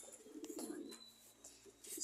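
Pigeons coo softly in a backyard loft, low rounded calls repeating close by against faint background noise.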